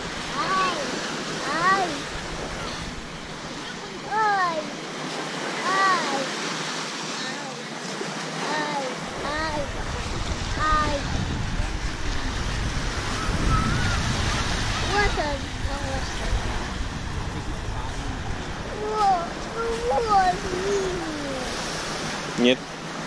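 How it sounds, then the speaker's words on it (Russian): Waves washing ashore on South Beach, Key West, a continuous surf wash with gusty wind in the background, under frequent bird calls and occasional voices nearby. "Это пляж South Beach на Key West."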